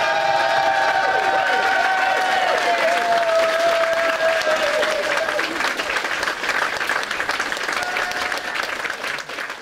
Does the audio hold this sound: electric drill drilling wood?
no